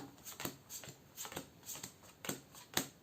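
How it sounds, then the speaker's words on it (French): Playing cards drawn one by one from a deck during a tabletop boxing-themed card game: about six soft, brisk papery slides spaced roughly half a second apart, close and quiet, with no talking. "Alors, on va déjà se récupérer nos 5 cartes."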